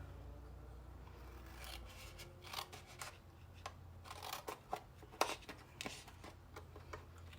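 A blade cutting along a score line in material, heard as a series of short scraping, rasping strokes with uneven rhythm, close and fairly quiet, with no talking.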